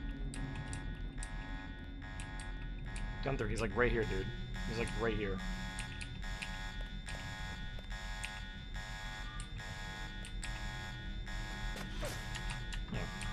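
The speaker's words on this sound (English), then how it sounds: "They activated the alarm." An alarm buzzer in the game Deus Ex: Revision sounds as a steady electronic tone, pulsing in regular beats for the whole stretch while someone talks over it.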